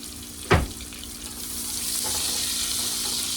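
Spinach stirred around in a hot frying pan, a steady close sizzle with a sharp scrape of the utensil early on and softer stirring scrapes later.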